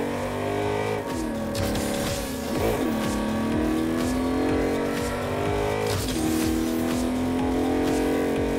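A car engine in the Agents of Mayhem video game revs hard and loud without pause, its pitch rising in sweeps with a racing-car growl and a brief tire squeal, no voices over it.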